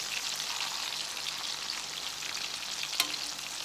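Mustard-coated catfish nuggets fry in hot oil with a steady, dense sizzle and crackle, close up, with one sharp pop near the end and no voices.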